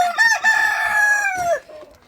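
A rooster crows loudly and close by in a henhouse in one long drawn-out call, with a short clucking note before it.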